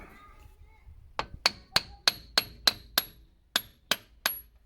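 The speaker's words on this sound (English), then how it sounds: "give it a little tap and see what wants to come out" Hammer tapping on a part of a 1999 Opel Astra CC 2.0, about eleven sharp, close metallic taps in a fairly steady rhythm, each ringing briefly.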